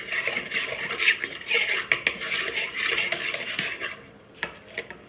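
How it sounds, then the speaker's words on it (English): A spoon stirs garlic salt and seasonings into a mixing bowl, giving repeated close clinks and scrapes against the bowl with an uneven rhythm that fades toward the end. "Give it a nice stir."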